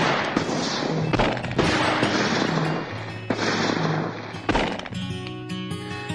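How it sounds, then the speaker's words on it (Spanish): Repeated rounds of gunfire ring out as several men fire more shots into a body, loud, sharp bursts arriving in irregular clusters with a brief quieter gap near the end. "vio a un grupo de sus camaradas disparar más rondas de balazos en"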